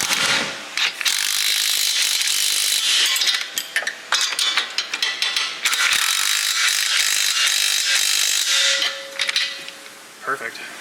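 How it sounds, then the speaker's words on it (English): A ratchet tightens the 19 mm strut bolts on a 2001-2005 Honda Civic, its loud rapid pawl clicking running in long close bursts with brief pauses between strokes. "both of these are 19 millimeter, so we're just going to tighten those up"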